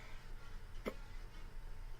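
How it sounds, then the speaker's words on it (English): A single short hiccup, one sharp isolated catch of breath in the middle of quiet room tone, close and fairly faint. "Oh, hiccups."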